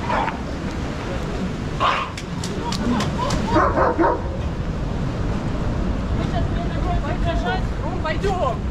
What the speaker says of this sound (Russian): Пусть собаку опять с вашей собакой разговаривать заставит.